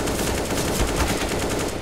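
Sustained automatic AK rifle fire in CS:GO, a loud continuous stream of rapid shots filling the whole moment without pause.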